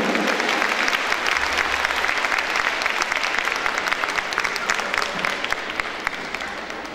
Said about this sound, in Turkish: tekrar alkışlarınızı istirham ediyorum efendim